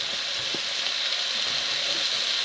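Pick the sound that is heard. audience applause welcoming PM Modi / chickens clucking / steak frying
steak frying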